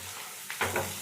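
Broad bean (chikkudu) curry fries in a pan with a soft sizzle that swells into a short burst of stirring and scraping near the end, brief and close.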